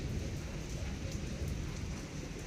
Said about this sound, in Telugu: ఇదిగోండి ఇక్కడ చూడండి ఎలా పడుతుందో వర్షం